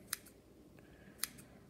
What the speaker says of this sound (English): scissors, regular scissors, nothing special, just cut up in little pieces